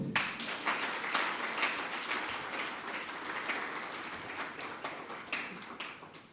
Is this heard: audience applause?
yes